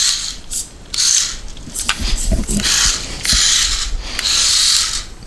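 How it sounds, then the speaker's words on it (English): A SINOHOBBY Mini-Q 1/28 RC touring drift car runs through repeated full-throttle bursts and brake stops, giving high whining electric motor surges broken by short pauses, with small mechanical clicks and rattles in between, close by. "So I'm going to do some full throttle and brake stops here real quick."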